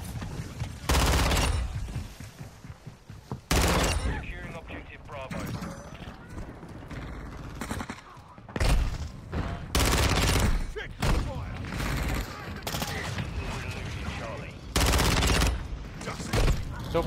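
Automatic weapon fire in a hardcore Shipment match of Call of Duty, loud rapid bursts repeating in clusters with pauses between, under frequent excited talk from a player.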